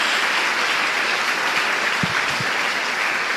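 A church congregation applauds during worship, a full, steady wash of many hands clapping at once for a few seconds.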